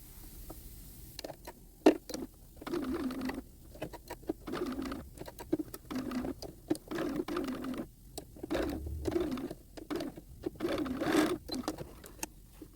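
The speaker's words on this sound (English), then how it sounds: "we will stay stitch the neckline here at 1/4 inch" A sewing machine stay stitches the neckline of a doll coat in short, stop-start bursts of rapid needle clatter, fairly quiet and close, with pauses between runs.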